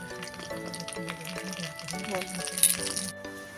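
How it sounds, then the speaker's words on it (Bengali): Cumin and five-spice seeds hit hot oil in a pan while aubergine for a tomato-aubergine bharta cooks, giving a steady close sizzle and crackle with faint clinks, under ongoing background music. "দিয়ে দিচ্ছি জিরে আর পাঁচ ফোড়ন তেলের মধ্যে"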